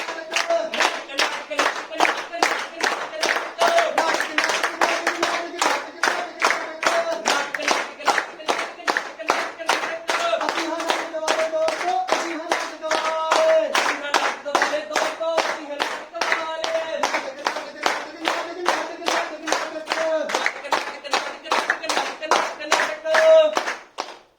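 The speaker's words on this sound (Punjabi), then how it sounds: "ਜਿਵੇਂ ਅਸੀਂ ਤਾੜੀ ਮਾਰਾਂਗੇ ਉਵੇਂ ਸਾਡੇ ਨਾਲ ਤਾੜੀ ਮਾਰਨੀ ਆ" Rhythmic group clapping in a steady beat, an audience clapping along in time with performers at the start of a Punjabi stage play, loud and continuous throughout with faint voices underneath.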